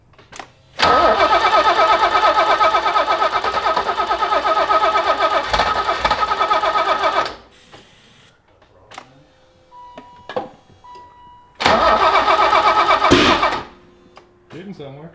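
A turbo-build BMW E30 with a suspected bad lift pump is cranked with brake cleaner as starting fluid, giving a long loud run of starter churning, a pause with faint clicks, then a shorter second cranking burst.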